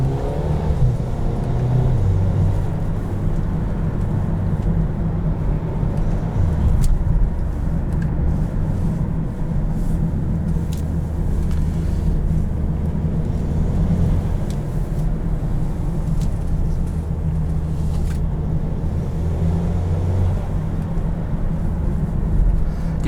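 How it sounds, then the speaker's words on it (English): Steady, loud engine drone heard from inside a 2021 Mercedes-Benz GLB250 as it accelerates, with a small turbo audible, a continuous low rumble and occasional faint clicks, no voices. "Definitely hear the little turbo."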